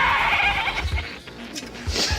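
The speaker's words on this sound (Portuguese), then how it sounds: "animais também fizeram esse papel. Cabras muito falantes." Goats bleating in a Marvel film scene, several wavering nasal cries, close and fairly loud, with a brief pause before a final bleat, and no talk over them.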